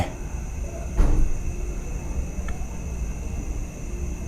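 A single dull knock or thump stands out against a steady background hum, followed a little later by a much fainter tap.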